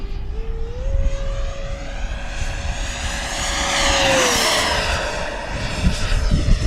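Banana Hobby Aerofoam Diamond RC jet with a 105mm 12s electric ducted fan flying upside down over a runway, a loud steady whine that rises in pitch as it passes close overhead and then drops away.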